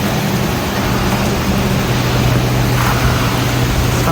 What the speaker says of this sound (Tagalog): Oh my God, umuulan na naman oh.